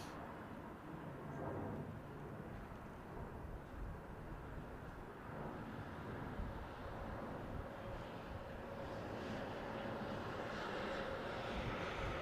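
An airliner landing at London Heathrow Airport at sunset gives a steady, broad jet roar that holds at an even level for the whole stretch, with no talk over it.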